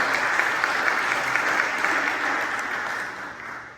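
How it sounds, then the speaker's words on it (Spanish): Worshippers at a Catholic Mass applaud a priest, giving a steady, moderately loud round of clapping that fades slightly toward the end. "vamos a darle un fuerte aplauso al Padre Rey, que nos va a compartir."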